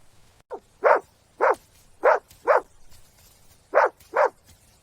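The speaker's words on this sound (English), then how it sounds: "He started barking, not a normal bark, it was sharp." A dog barks sharply six times in irregular pairs, close and loud, with quiet gaps between the barks.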